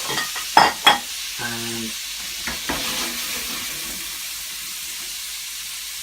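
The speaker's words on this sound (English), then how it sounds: "we're going to chuck in the tomatoes, let them cook off for a few seconds to start to soften" Tomatoes drop into a pan with turkey meatballs and are stirred, giving a couple of sharp clatters followed by a soft, fading sizzle. A voice speaks briefly.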